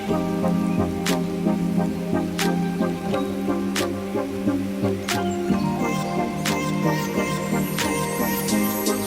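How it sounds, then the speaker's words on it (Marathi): Heavy rain pours down during a thunderstorm with wind, a steady dense hiss with scattered sharp drop taps and crackles throughout, continuous and fairly close, with no voices. "जोरदार पाऊस चालू झाला तो मात्र भरपूर विजांचा कडकडाट आणि वारं वारंसुद्धा तितकंच होतं"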